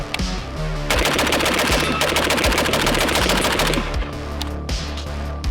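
Rapid continuous automatic fire from a PSA 556 Krink rifle, a dense unbroken string of loud close shots lasting several seconds, opened and closed by a few separate single shots.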